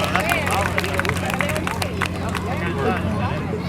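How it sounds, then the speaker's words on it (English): Audience at an alligator show clapping with crowd chatter and cheering mixed in, a steady, continuous wash of hands and voices that holds at a fairly even level throughout. "Give him a nice big round of applause."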